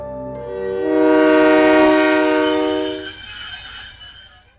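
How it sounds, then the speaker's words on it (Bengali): A train horn sounds loudly and sustained for a few seconds, then fades as the train rolls in with a low mechanical rumble. "কনকনে ঠান্ডায় শেষ ট্রেন যখন প্ল্যাটফর্মে এসে দাঁড়ালো"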